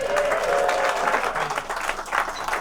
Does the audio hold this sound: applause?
yes